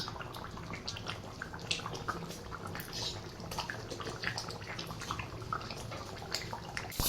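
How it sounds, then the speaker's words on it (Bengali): Heated ghee with radhuni seeds poured into a pot of vegetables, a continuous soft sizzling and bubbling with faint splashy crackles, steady and close. "রাঁধুনি আর ঘিটা যে গরম করেছিলাম ওটা আমি আবার এর মধ্যে ঢেলে দিলাম"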